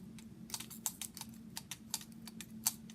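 A spring-loaded needle felting tool stabs into wool with quick, faint clicking taps in an irregular rapid rhythm, heard up close over a low steady hum, with no talk.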